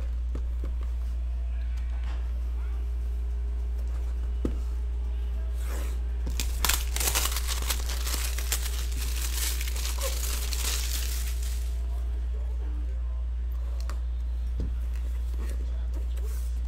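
Foil wrappers of 2019 Gold Rush baseball card packs are torn open, with a dense burst of crinkling and ripping in the middle that fades to quieter rustling near the end.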